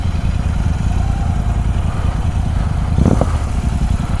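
A Royal Enfield Interceptor 650 motorcycle engine runs steadily up close, a continuous low rumble with a brief surge in intensity near the end, and no talk over it.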